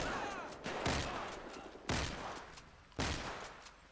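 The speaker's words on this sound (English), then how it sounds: "I'm not sure if they can hear our bullets over the sound of theirs." Gunfire in a GTA 5 zombie apocalypse mod, three sharp bursts spaced about a second apart, each decaying into a noisy tail, moderately distant and fairly quiet, no talking.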